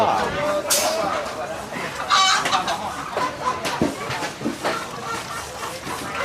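Chickens cluck and a rooster crows amid a busy, noisy Lao market in Bang Bon with chatter and clatter around them.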